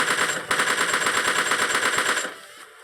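Automatic gunfire in the mobile shooter PUBG Mobile Lite, a loud, fast, continuous burst of rapid shots that cuts off near the end, no talking.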